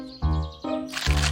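Baby birds cracking out of their eggs in a nest up in a tree: a few short cracks and crunches in quick succession, close and clear, with faint chirps around them.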